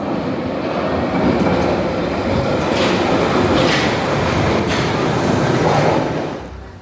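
A London Underground Piccadilly line train rumbles and rattles steadily near a platform at Covent Garden, with clickety wheel noise before it fades at the end.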